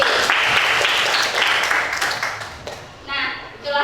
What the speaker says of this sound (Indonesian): beri tepuk tangan untuk Nindi